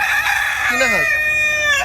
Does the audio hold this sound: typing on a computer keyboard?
no